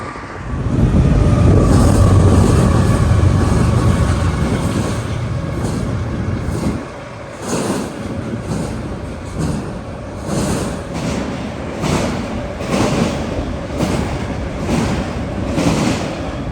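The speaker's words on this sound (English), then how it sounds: "another BNSF Z train pulled in" BNSF Z intermodal freight train pulling in at Aurora, a loud, steady low rumble and roar that eases after a few seconds into rhythmic clattering of cars rolling past.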